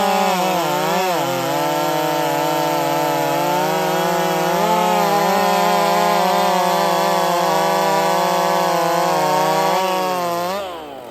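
A ported Husqvarna 61 chainsaw with an open transfer design cuts steadily through wood, engine loud and close at high revs for about ten seconds before dropping off at the end.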